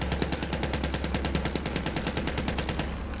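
Rapid, steady machine-gun fire from an aircraft strafing run in Battlefield 1, a loud continuous burst of evenly spaced shots lasting about three seconds before cutting off, with no voices.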